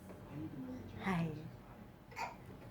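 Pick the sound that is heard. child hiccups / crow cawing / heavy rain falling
child hiccups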